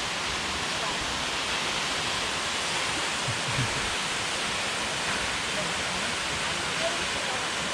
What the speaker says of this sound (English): But we're checking out the waterfall.